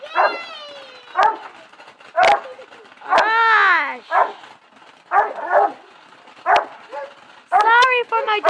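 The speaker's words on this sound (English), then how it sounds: "Sorry for my dog's barking." A dog barks and yips in sharp, repeated bursts close by, roughly a dozen calls with short gaps, while a person speaks briefly between them.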